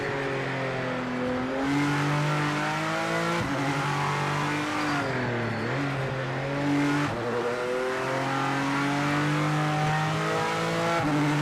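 A race car engine in the video game Project Motor Racing on PS5 revs high and drops through quick downshifts, with sharp pitch falls between sustained loud whines and faint tire noise beneath.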